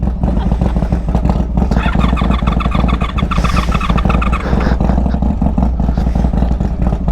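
A motorcycle engine idles and revs nearby, loud and rough with a clattering, uneven beat that suggests a lean-running bike at the start of a riding season, with no voices over it.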